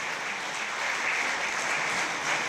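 Applause rolls through the hall at the Gala Młodych Nieprzeciętnych awards in Mielec as a young winner is honored, a thick, even wash of many hands clapping throughout.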